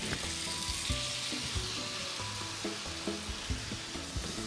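Prawns sizzle and spit in a pan of sambal chilli paste with tamarind juice, a steady close frying crackle with brief louder bursts from stirring.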